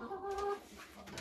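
A hen sitting on a nest box with a sloped floor and an egg collection tray gives a short burst of clucking and throaty calls, close and fairly clear, with no talking.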